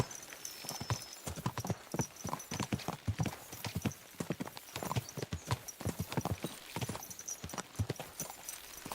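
Horse hooves clip-clop in a steady, quick riding rhythm in Kingdom Come Deliverance 2, with continuous close hoofbeats filling the stretch and a faint whinny-like tone now and then.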